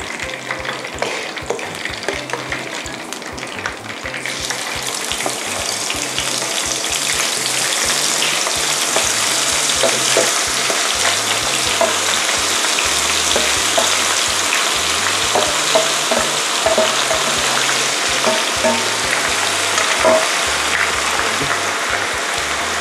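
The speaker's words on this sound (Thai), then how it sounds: "ทีนี้นะคะเราจะต้องมาทอดสมุนไพรที่เราโขลกไว้นะคะหรี่ไฟด้วยนะคะ" Pounded turmeric and herbs fry in oil over low heat for fried mullet, a loud, dense crackling sizzle that swells after a few seconds and holds steady, with rhythmic stirring strokes underneath.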